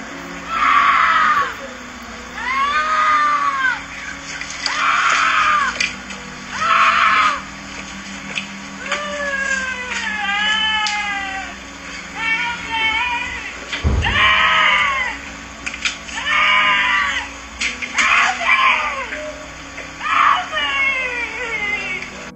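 Repeated shrill, wailing screams like someone shrieking in terror for help, coming in rhythmic bursts every second or two over a steady background hum, moderately close and loud.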